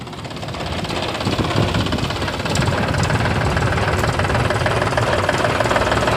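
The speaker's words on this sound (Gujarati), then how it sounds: "સાગરભાઈ ટ્રેક્ટર લઈ લીધું છે હાથમાં" A farm tractor engine runs loud and close, a steady chugging diesel rumble with a knocking pulse that holds even throughout, no talk over it.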